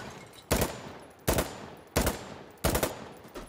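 Four sharp, loud gunshot bursts at an even pace of roughly one every three-quarters of a second, each with a short decaying tail, fired at a bot in the video game Insurgency: Sandstorm; no talking.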